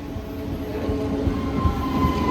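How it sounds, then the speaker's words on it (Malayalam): The Nizamuddin–Thiruvananthapuram Rajdhani Express runs past at Koratti, a loud, close, continuous rumble of wheels with a steady tonal whine and rhythmic low thumps. "നിസാമുദ്ദീൻ തിരുവനന്തപുരം രാജധാനി നമുക്ക് പെട്ടെന്ന് കിട്ടിട്ടോ കൊരട്ടിയിൽ വെച്ചിട്ട്"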